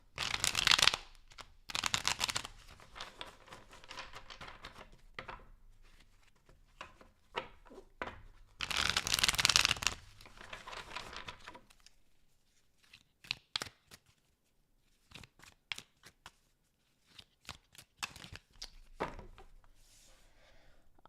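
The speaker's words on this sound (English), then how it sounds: "2 more shuffles." Tarot cards are shuffled by hand in bursts of riffling and sliding, with two longer flurries early on, then quieter scattered taps and card snaps near and clear, no talking.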